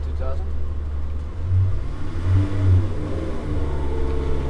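Koenigsegg Gemera hypercar engine on a dyno, low and steady at first, then swelling in a few rising revving surges before settling back, with people talking over it.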